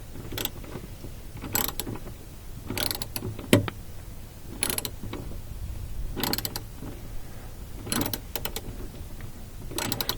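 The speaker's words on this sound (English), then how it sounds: "So you really just need a 10mm deep socket to do this." A 10mm deep socket on a ratchet turning the emergency brake adjuster nut of a third-generation Toyota Prius, bursts of rapid clicking ratchet strokes separated by pauses, close and alone.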